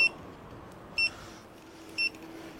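Turn signal on a Cunfon RZ800 electric scooter chirps in three short, high beeps spaced about a second apart, faint and thin over a quiet background hum.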